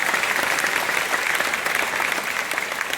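An audience at a company convention claps through a speech, loud and dense applause that holds steady, with no one speaking over it.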